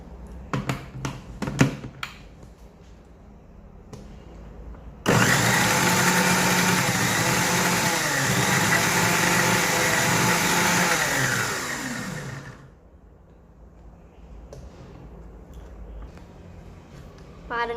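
A blender grinds a milk shake of milk with the lid closed, a loud steady whirring motor that starts abruptly after some clatter and runs for several seconds before cutting off, leaving quiet handling sounds.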